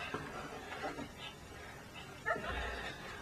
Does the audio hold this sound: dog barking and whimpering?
yes